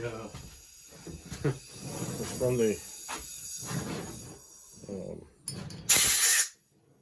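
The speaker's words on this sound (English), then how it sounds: "the first thing I want to do is use some compressed air" A compressed air blowgun gives one loud, sharp hiss of about a second near the end, after someone talks over workshop clatter.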